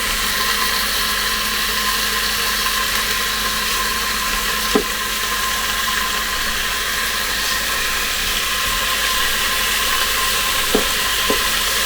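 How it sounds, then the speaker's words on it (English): Bacon and onions sizzle steadily in a Ninja Possible cooker set to sear saute, a dense, even crackle with a couple of faint clicks and no voices. "remember it's on sear saute, so the bacon should crisp up quite nicely"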